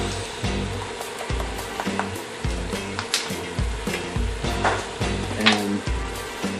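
Ground meat seasoned with tahini, cinnamon and jerk seasoning sizzles steadily in a pan for chili, with close, crackling frying and occasional stirring scrapes and clatters.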